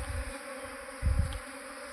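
A honeybee swarm buzzes steadily and close by, a dense continuous hum with a brief low rumble of handling about halfway through.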